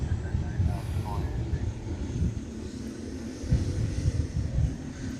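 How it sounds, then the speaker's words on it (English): A FedEx Boeing 777 departing from an airfield, its broad jet engine roar steady and fairly distant, blended with wind and faint background voices. "So this FedEx 777 is heading off to Sydney."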